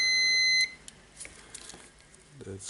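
A multimeter sounds a steady continuity-test beep for about half a second while checking an angle grinder's power cord, then stops, leaving faint handling noises.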